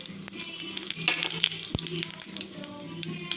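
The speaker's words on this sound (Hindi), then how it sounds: "एबे सेतिर मु जीरा पकी देबी।" Cumin seeds crackling in about two spoonfuls of hot oil in a kadai, with a steady close sizzle, scattered sharp pops and one louder tap midway.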